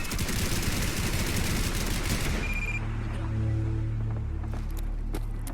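Gunfire erupts during an attack by gunners in Fallout 4, a dense rapid burst of shots for about two seconds, followed by lingering tonal game sounds and scattered fainter pops.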